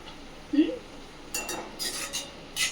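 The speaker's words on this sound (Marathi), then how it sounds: "झाकण उचलते, एकदा अशी ढवळून घ्यायची" A pot lid lifts with a soft clink, then a spoon stirs cooking vegetables, making a few short scraping strokes near the mic over a quiet kitchen background.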